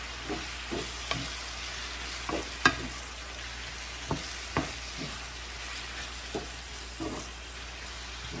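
Onions sizzle quietly in a heated crock pot while a utensil stirs them, with soft scraping strokes recurring at uneven intervals over a low, steady frying hiss.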